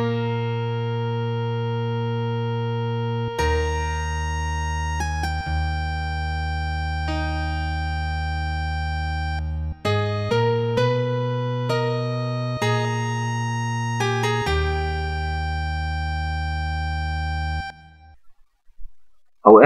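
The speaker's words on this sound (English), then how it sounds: "If you play them through XML Play or Timidity, they sound like this." MIDI music from the Little Big Adventure video game plays through XMPlay or Timidity, sustained synthesized tones shifting through several chord changes, loud and steady before cutting off near the end.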